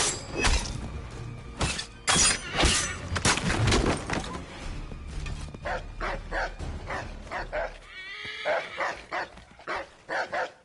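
A dog barks repeatedly in Assassin's Creed 3 Remastered, with sharp loud yaps mixed with crashing, shattering impacts early on, then quieter intermittent barks toward the end.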